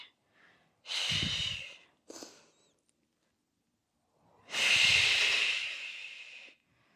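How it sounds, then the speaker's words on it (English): Deep, forceful breaths during a Pilates reformer jumpboard cardio workout: a long, loud exhale, then a shorter one, a pause, and another long, heavy breath. The breaths are close and clear, with no talk. "Keep breathing deeply, nicely."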